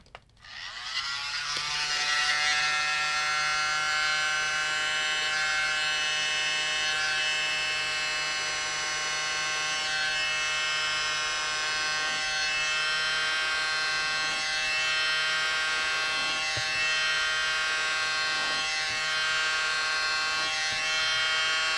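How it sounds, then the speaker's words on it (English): A small mini blower starts up and runs continuously at a steady, bright buzzing whine with a constant motor hum, alone and close for over twenty seconds. "Alright, mini blower."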